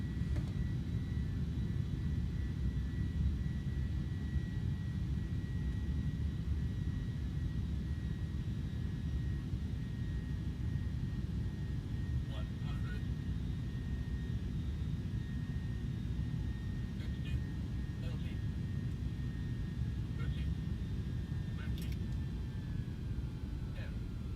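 Simulated airliner jet engines roar as the iniBuilds A310 in Microsoft Flight Simulator lands with thrust reverser deployed, a constant loud broadband rumble with a faint high whine and a few brief clicks.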